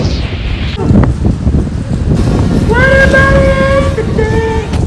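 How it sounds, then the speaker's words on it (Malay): Strong wind roars and buffets against the microphone during rain in Penang, steady and loud, while a high whistling tone rises over it partway through. "angin kuat"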